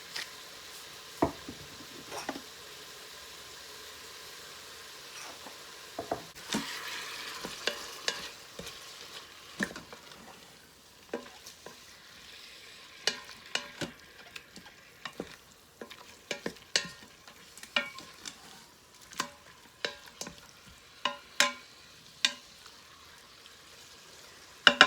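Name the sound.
meat searing in a pan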